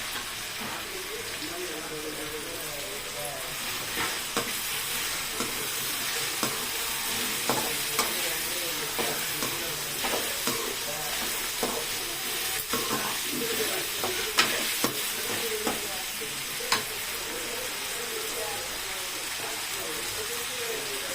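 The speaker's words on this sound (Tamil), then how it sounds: "நல்லா வதங்கிடுச்சு இப்போ வந்து தக்காளி பழம் போட்டு வந்துட்டோம்" Tomatoes frying and being stirred in a pan for Sankara fish curry, a steady sizzle with repeated scraping stir strokes throughout, close and fairly loud with no talking.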